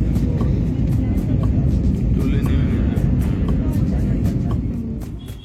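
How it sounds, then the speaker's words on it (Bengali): Passenger jet landing on arrival in Goa, heard from inside the cabin as a heavy continuous low rumble and roar that stays loud throughout and eases slightly at the end. "এখন আমাদের ফ্লাইট ল্যান্ড করছে।"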